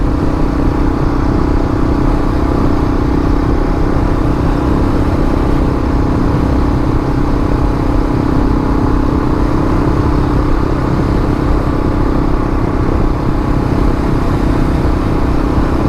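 A Kawasaki KLR650 motorcycle on a solo road ride, its engine a loud, close, constant drone mixed with rushing wind noise for the whole stretch.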